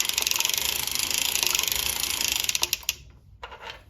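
A circular sock knitting machine being cranked through two rows while knitting a lace ornament, giving a steady fast mechanical clatter that runs alone and then breaks into a few separate clicks near the end.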